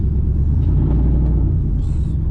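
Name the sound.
car engine rumbling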